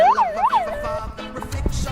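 A siren on an electric police motorcycle wails in a rising and falling yelp, loud and close, with a low rumble underneath.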